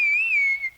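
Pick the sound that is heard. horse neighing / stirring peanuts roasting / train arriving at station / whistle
whistle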